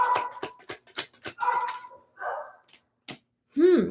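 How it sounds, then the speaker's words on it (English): Several household dogs bark and yip in short bursts close by, then whimper and let out a higher whine, with pauses of silence between. "Sorry if you hear my dogs."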